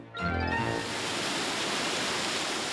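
Chikso waterfall in Hongcheon, Gangwon, among fresh green foliage: a steady, loud, close roar of rushing water that fills the sound without break, after a brief snatch of music at the start.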